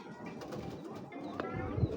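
A female racing pigeon coos softly in a few short, low murmuring calls amid faint background noise.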